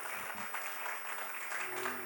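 A studio audience applauds steadily to welcome a singer onto the stage of a music show, a dense continuous wash of clapping that holds evenly throughout.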